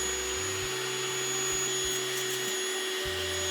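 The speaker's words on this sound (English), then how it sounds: "I'm just gonna gently vacuum it" A vacuum nozzle cleans coffee grounds off the burr of a Eureka Mignon espresso grinder, giving a steady, close motor whine whose low hum dips and shifts several times as the nozzle moves, with no talking.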